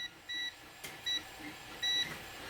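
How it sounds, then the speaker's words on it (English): A multimeter on continuity test beeps three times in quick succession as the probe touches hilt connector pins, short clear electronic tones, faint and alone. "We're only looking for a beep."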